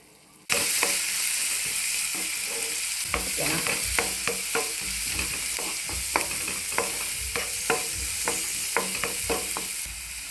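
Onions fry in oil in a pan with a steady, loud sizzle, and repeated scraping knocks of a spatula or spoon stirring against the pan punctuate it in irregular bursts.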